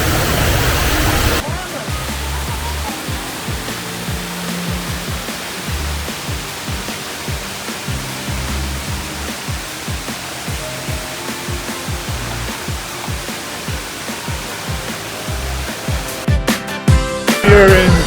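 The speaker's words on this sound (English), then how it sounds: "waterfall." The giant indoor waterfall at Singapore's Changi Airport roars as a broad, constant rush of falling water, loud and steady for most of the stretch, with brief louder shifts at the start and end.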